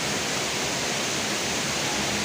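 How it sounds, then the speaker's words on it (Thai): Nang Khruan waterfall in Tak province rushing continuously, a dense steady roar of falling water filling the scene evenly with no breaks and no voices. "ความงามของน้ำตก"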